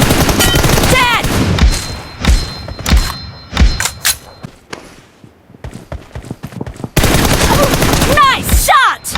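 Gunfire in the video game PUBG: loud close bursts of automatic shots at the start and end, separated by single thumping shots and quieter gaps, with a short voice heard in between.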